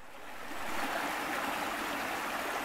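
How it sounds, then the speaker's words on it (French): A stream flowing below a rocky trail, giving a steady broadband rush of water that swells slightly at the start and then holds even, with no voices. "Le ruisseau est là, en contrebas."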